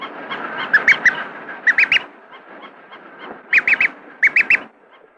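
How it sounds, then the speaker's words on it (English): A duckling calling in a vintage imprinting study, giving bursts of three or four quick, bright peeps repeated several times with short pauses, close and clear. "it stops making distress calls and begins a calm peeping."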